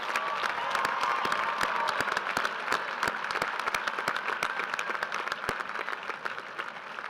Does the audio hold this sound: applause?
yes